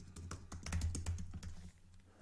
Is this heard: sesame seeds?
no